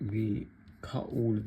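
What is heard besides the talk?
None of the usual background noises is heard.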